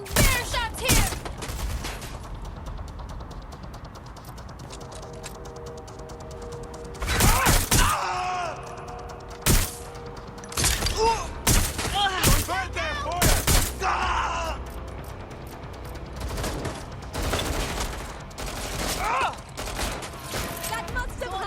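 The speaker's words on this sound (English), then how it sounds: "Someone's shooting!" Gunfire in the video game Watch Dogs Legion, with sharp bursts of shots and loud impacts scattered irregularly through the scene, mixed with pained groans and shouting voices and mechanical effects between volleys.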